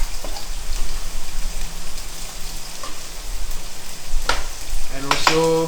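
Onions frying in a pan with spice paste for Hokkien flat noodles in Mamak mee kuah, a loud, dense sizzle like rain, broken by a few knocks and stirring sounds near the end.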